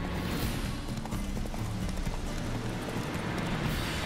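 Horse hooves clip-clop in The Witcher 3 as a led horse walks along. A steady, moderately quiet patter of hoofbeats runs beneath a dense ambient game soundscape, with no talking.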